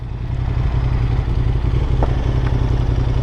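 A 2024 Honda Transalp 750 adventure motorcycle engine runs steadily at close range, a loud, rumbling idle with a faint clatter throughout.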